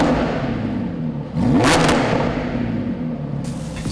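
Lamborghini Huracan LP610 V10 with a valved aftermarket exhaust in sport mode, revving loudly close by: a steady rumbling idle swells into a sharp rising rev around the middle, then settles back to a deep burble.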